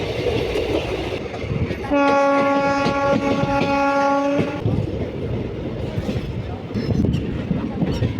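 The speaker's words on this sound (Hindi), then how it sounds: "संत हिरदाराम नगर अराइविंग हो रही है हमारी ट्रेन।" The Indore–SMVD Katra special train pulls into Sant Hirdaram Nagar station and sounds a loud, steady multi-tone horn for about two and a half seconds, over the continuous rumble and clatter of the moving train.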